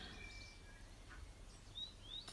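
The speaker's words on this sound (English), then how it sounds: "you can hear all the birds in the background." Birds chirp faintly in the distance, a few thin, brief high calls scattered over a quiet indoor background.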